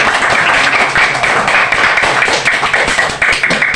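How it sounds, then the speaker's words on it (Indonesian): A classroom group clapping hands together, a dense, continuous burst of many close claps that stays loud and even throughout with no talking over it. "Oke, tepuk tangan."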